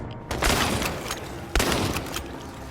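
Gunfire in the video game Chernobylite comes as two sharp bursts, the second after a brief pause, each trailing off quickly, with no one talking.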